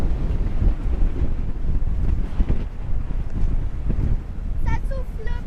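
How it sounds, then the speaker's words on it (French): Blustery coastal wind near Lorient and Ploemeur in Brittany pounds the microphone with loud, continuous low buffeting gusts, and brief faint voices come through near the end. "Ça souffle plus que là-bas."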